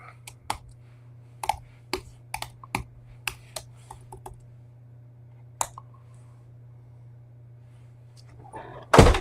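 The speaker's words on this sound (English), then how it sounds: "I'll type this in here." Keys on a computer keyboard are tapped in short, irregular bursts of sharp clicks over a steady low hum, with one louder clatter at the very end.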